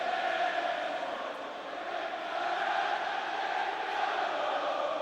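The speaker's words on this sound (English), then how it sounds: "Villa's crowd finding their collective voice again." Football crowd at Aston Villa's stadium during a match against Arsenal, a broad sustained roar of chanting voices filling the stands, steady and distant with slight swells, no commentary over it.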